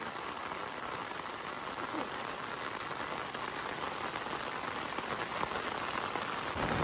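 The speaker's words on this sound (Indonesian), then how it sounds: "berhubung ini hujan semakin gede ya" Heavy rain pours steadily in a mountain village, a dense, loud, unbroken hiss of drops on surfaces with no pauses and no voices.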